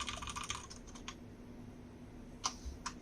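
Quiet clicking keystrokes on a KREO Hive RGB wired gaming keyboard with red switches, a quick burst of typing at first and then a few scattered taps after a pause, close and soft.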